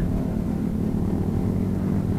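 Motorcycles riding by the sea make a steady low engine rumble at moderate volume throughout, with no distinct pass-by and no speech.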